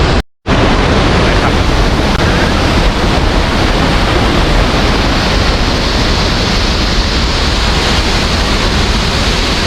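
Tad Yuang waterfall in southern Laos roars as a loud, steady wall of rushing water that fills the whole clip after a brief silent gap at the start.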